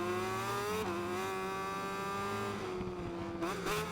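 A racing motorbike fires out of a corner on a circuit, its engine holding a loud, steady high whine that dips briefly and climbs again as it accelerates away.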